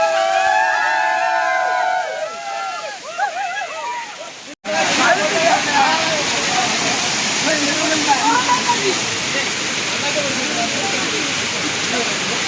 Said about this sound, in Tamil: இங்கே பாருங்க மோளு தண்ணீர் விழுது